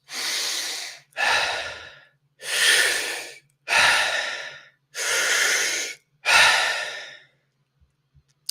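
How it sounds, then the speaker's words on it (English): Six deep, slow breaths in a guided breathwork exercise, each a long, loud, airy rush of about a second, evenly paced close to the mic, with silence after the last. "Breathe into your lungs as deeply as you can and let it go."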